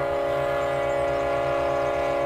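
Train in Trainz 2019 rolling onto the Denton Sub, a steady sustained tonal drone with a horn-like hum over low rumble, continuous and fairly loud throughout.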